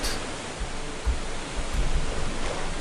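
A waterfall in the video game Gothic roars as a steady, dense wash of rushing water, constant and fairly loud with no other sounds on top.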